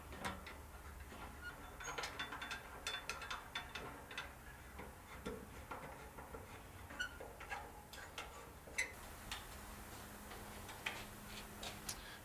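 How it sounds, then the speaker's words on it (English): Screws are tightened on a Croce brand colonial security shutter during installation. Faint, irregular clicks and ticks repeat steadily for several seconds over a low background hum. No talking. "we'll start tightening all the screws."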